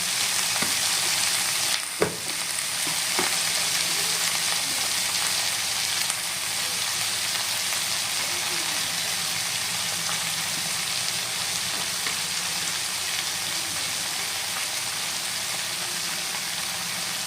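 Pea greens seasoned with turmeric and salt fry in a pan with little oil, giving a continuous, loud, even hiss of sizzling, with one sharp knock near the start and no voices.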